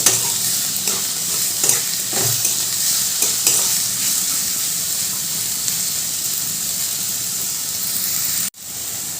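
Pointed gourd pieces fry with salt in oil in a pan, giving a continuous bright sizzle with a few stirring scrapes, loud and close, then a brief cut near the end.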